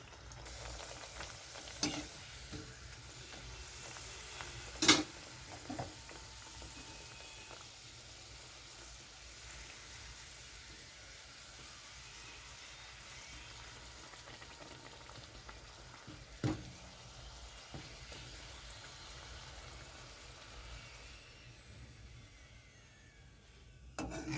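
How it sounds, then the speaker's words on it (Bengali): Pea-pod butter kachoris deep-fry one by one in oil, a soft, steady bubbling sizzle with a few sharp clinks of a utensil, fairly quiet and close. "তো এরকম এক এক করে সবগুলো আমি ভেজে নেব"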